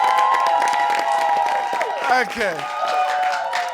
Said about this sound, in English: Please, one more time, a round of applause.